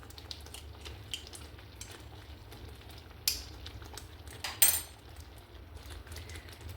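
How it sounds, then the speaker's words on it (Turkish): A spoon mashing corn starch with water in a bowl for gluten-free Tokat köme tarhana: faint, quiet scraping and stirring with a couple of sharper clinks. "Nişastayı bir güzel ezelim burada"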